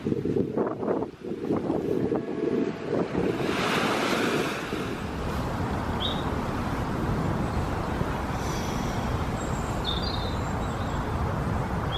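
Ocean waves on the Spanish coast surge and wash in a loud, continuous roar, with heavy wind buffeting the microphone throughout.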